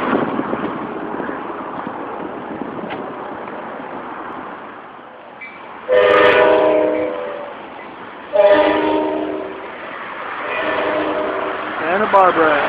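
A train rumbles past steadily along the beach near Santa Barbara, with a horn sounding in a few loud blasts near the end while people talk.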